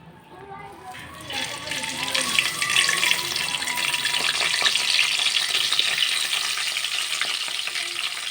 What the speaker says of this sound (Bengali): এদিকে তেলগুলা গরম হয়ে গেছে আমি এখন দিয়ে দিব পেঁয়াজ কুচি